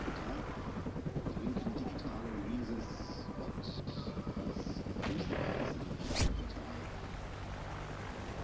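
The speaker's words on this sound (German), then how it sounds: "Helikopter. SATCOM-Verbindung aktiv." A helicopter in the video game Call of Duty Ghosts thrums with a steady rotor chop, fairly faint under game background noise, with a sharp burst near the end.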